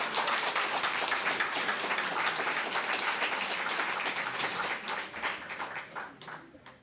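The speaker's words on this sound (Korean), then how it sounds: "이렇게 많은 모임을 하고 있다는 것이 기뻐서 여러분들이 박수를 쳐주시는 것이죠." A church congregation at a Wednesday meeting in Daegu applauds with dense, sustained clapping that fills the room and slowly thins toward the end.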